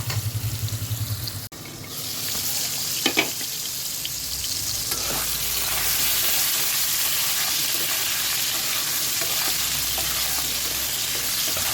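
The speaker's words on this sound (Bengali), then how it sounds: "আলুটাকেও লাল লাল করে আগে ভেজে নেব" Long potato strips fry in oil in a pan, a loud steady sizzle with occasional stirring scrapes after a sharp drop-in moment near the start, continuing unbroken with no voices.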